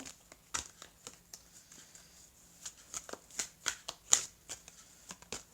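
Tarot cards are shuffled and handled close up: a quiet, irregular series of crisp riffles, slaps and soft papery flicks with brief pauses between.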